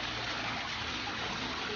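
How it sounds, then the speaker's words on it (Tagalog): Water flows steadily in a garden with a fish pond, a continuous soft gushing and trickling wash close by with no speech. "Talaga namang nakaka-relax ang tunog ng daloy ng tubig."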